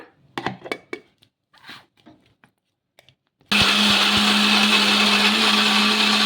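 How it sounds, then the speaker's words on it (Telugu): After a few seconds of soft handling clicks and taps, a mixer grinder blending fresh coconut chutney with water switches on abruptly, a loud steady high whine close by that runs to the end. "వేసుకొని మిక్సీ అయితే పట్టేసుకోవాలి మెత్తగా"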